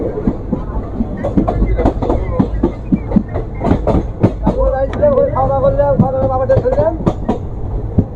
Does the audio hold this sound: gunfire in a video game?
no